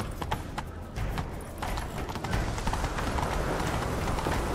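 Hooves pound rapidly in a steady galloping rhythm in The Witcher 3: Wild Hunt, dense and continuous, with a rushing, noisy background throughout.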